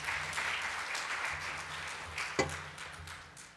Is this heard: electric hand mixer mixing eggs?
no